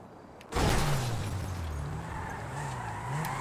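In a video game, a car suddenly bursts into a loud, sustained tire screech and skid with engine roar, starting abruptly and continuing with a wavering squeal.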